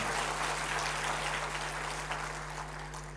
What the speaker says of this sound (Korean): 이김을 주신 주님께 영광 박수를 드리겠습니다.